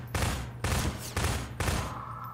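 Gunfire in the video game Half-Life 2, four rapid bursts of automatic shots, each about half a second long, loud and close with brief gaps between them.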